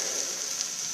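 A slice of paneer pan-frying gives a brief, steady hiss of sizzling oil, moderately loud and close, with no voices.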